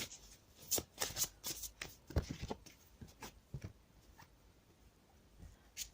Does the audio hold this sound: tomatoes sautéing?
no